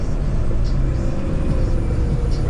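A school bus on the road, a steady low engine rumble and road whir close by with faint hissy bursts that could be air brakes, the drone continuous and fairly loud.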